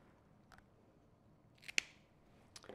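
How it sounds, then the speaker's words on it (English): A single crisp snip from Fiskars scissors cutting lavender stems for a wreath, close and brief, preceded by a couple of faint lighter clicks in an otherwise quiet room. "I'm gonna cut these stems off so that they're not longer than the wreath"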